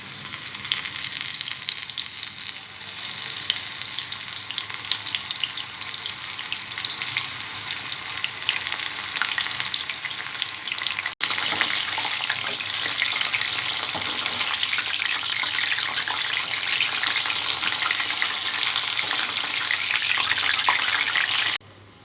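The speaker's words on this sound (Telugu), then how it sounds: "మనం ముందుగా కలిపి పెట్టుకున్న మష్రూమ్ ముక్కల్ని ఆయిల్లో డీప్ ఫ్రై చేసుకోవాలి." Mushroom pieces deep-frying in hot oil for a spicy mushroom fry give off a loud, steady, dense sizzle that runs the whole time, with a brief dip partway through.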